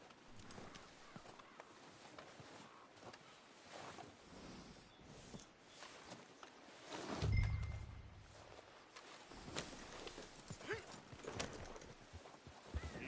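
Horse hooves clip-clop in Red Dead Redemption 2 gameplay, a quiet, uneven stream of hoofbeats with a louder low thump midway and ambient game sound throughout.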